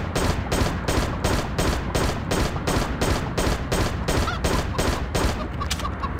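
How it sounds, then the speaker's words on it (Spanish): Rapid automatic gunfire in the video game Dead Trigger 2: a loud, close, steady stream of evenly spaced shots, about three per second, running unbroken for the whole stretch with no talk. "Vamos a disparar a ver qué tal."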